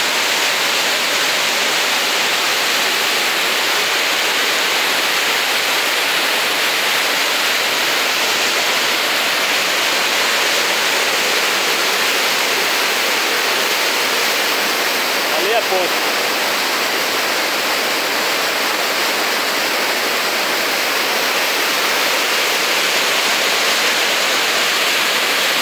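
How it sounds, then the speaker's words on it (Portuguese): Waterfall on a river running very full after refilling, in Joaquim Gomes, Alagoas, a steady loud broadband roar of rushing, crashing water holding even throughout with no breaks. "Olha a cachoeira."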